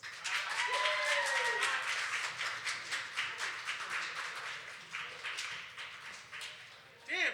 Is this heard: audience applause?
yes